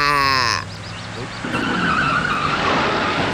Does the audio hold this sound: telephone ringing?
no